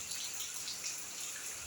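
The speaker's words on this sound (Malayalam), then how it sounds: "മഴ ഇപ്പോഴും ഉണ്ട്." Light rain falling outside a house during a wet spell, a faint, steady hiss of drops heard alone with no voices.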